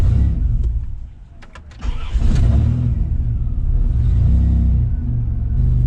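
A modified, not-quite-stock car engine that tends to stall on a cold start, kept running at around 1,000 RPM with a steady loud low rumble, a brief dip, then a sustained throttle-held drone.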